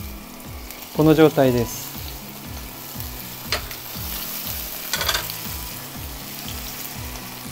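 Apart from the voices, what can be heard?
tomatoes searing cut side down in oil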